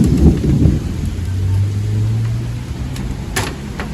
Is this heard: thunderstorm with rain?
yes